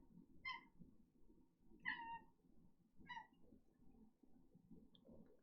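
A cat meows three times in fairly even succession, short clear calls, fairly close, with a soft low rumbling murmur underneath and a faint chirp at the end.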